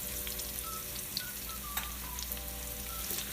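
Chili and curry leaves sautéing for a Sri Lankan crab curry: a steady, even sizzle of frying oil that stays constant and close throughout, with no voices.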